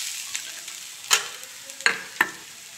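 Chopped onion frying in a pan with ginger and green chilli, for a spiny gourd (kakoda) sabji cooked village style; a steady hiss of oil with three sharp spoon clicks against the pan, close by.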